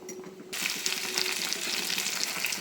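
Chopped onion and green chillies drop into hot oil in a pan for sago upma, setting off a sudden loud, steady sizzle and crackle right up close.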